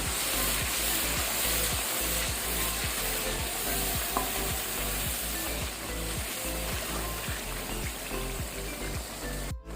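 Spices fry in a pan for chicken pulao, giving a loud, steady sizzle while a spoon stirs and scrapes in regular strokes, with no talking.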